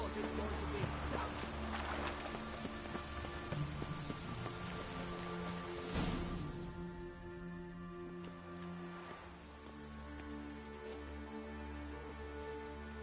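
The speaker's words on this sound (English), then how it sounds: "It's raining, of course it's going to be damp." Steady rain falls in the Witcher 3 video game, a constant hiss under a game music bed and ambient tones, with some voice activity mixed in.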